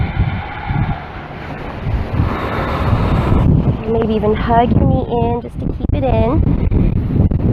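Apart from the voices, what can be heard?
strong wind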